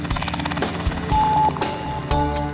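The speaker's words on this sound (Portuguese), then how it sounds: "Para chegar e sair daqui, só de helicóptero." A helicopter flying out to an offshore pre-salt oil platform gives a loud, droning rotor and engine roar that surges and shifts abruptly several times.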